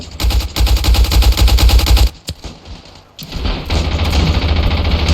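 Loud rapid machine gun bursts in Ravenfield, set in a World War I Passchendaele trench battle, hammering close for two seconds, pausing briefly, then resuming in dense sustained fire.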